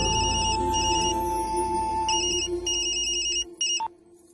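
A mobile phone rings with an incoming call, playing a bright electronic melody in repeated tonal phrases. It sounds close and steady, carries on for several seconds and then cuts off, with no talking over it.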